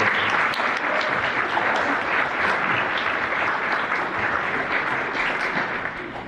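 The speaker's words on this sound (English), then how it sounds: "So a round of applause for all of our seniors here." Seniors receive sustained applause at a school athletic awards dinner, with a dense, even wash of many hands clapping throughout the room, loud and continuous before easing slightly at the end.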